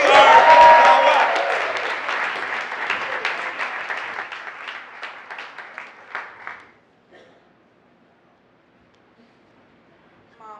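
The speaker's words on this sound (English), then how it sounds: "Please give a round of applause to Keith Baker." An audience at a local comedy-improv show bursts into loud applause that gradually thins into scattered claps and stops around seven seconds, leaving near-silence.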